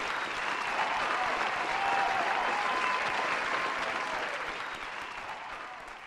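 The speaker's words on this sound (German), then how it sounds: "unter einem Applaus, einem tosenden, lässt sich das viel besser auf die Bühne kommen." Applause fills an award ceremony hall for a media prize presentation, a broad, even wash of clapping that swells slightly and then gradually tapers off, with no speech over it.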